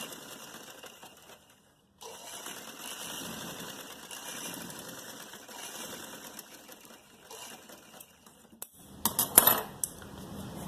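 A sewing machine stitches two pieces of salwar fabric together: a steady whirring run of needle strokes that briefly stops, then resumes, ending in sharper metallic clatter and knocks near the close.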